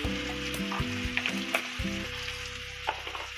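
Spice masala with chopped tomato fries in oil, a close crackling sizzle with a few stirring scrapes and light pops, fairly quiet and steady.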